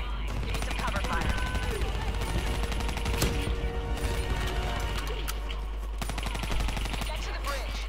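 Video game combat with bursts of automatic gunfire and single shots over a steady low rumble, mechanical clatter and crashes mixed in, and voices talking under the shooting.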